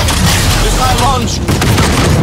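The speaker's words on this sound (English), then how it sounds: "Missile launch." A missile launch in the video game Evolve, a dense booming blast with rapid crackling bursts, loud and close, mixed with game effects and a player's voice.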